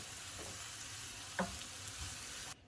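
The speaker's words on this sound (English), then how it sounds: "I'm going to go ahead and let these mushrooms cook up and the onions cook up a little bit more" Mushrooms and onions sauté in a pan with a steady, close hiss, one sharp utensil knock partway through, before the sizzle cuts off abruptly near the end.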